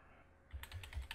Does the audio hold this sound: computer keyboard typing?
yes